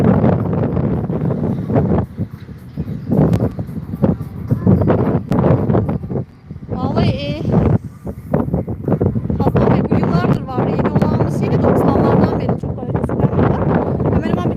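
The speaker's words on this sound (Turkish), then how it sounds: "Bugün biraz rüzgar var şu anda burada." Gusty wind roars and thumps against the microphone throughout at Sinop Fortress, Turkey, while a person talks intermittently underneath.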